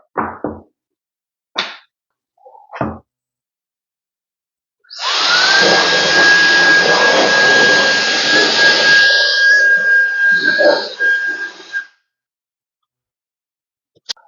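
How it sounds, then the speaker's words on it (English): A Wolfbox Megaflow 200 electric air duster blows in a loud, steady rushing hiss with a high motor whine for about seven seconds, preceded by a few short knocks and handling sounds. "It's the Wolfbox Megaflow 200. It's a fantastic air duster."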